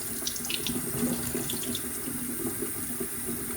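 Tap water runs steadily into a sink while a kitchen sponge is rinsed clean beside a Berkey water filter, a continuous close hiss with small splashing spikes and no voices.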